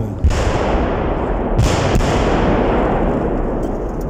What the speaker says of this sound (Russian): Бьет вражеская артиллерия, снаряды разрываются в нескольких десятках метров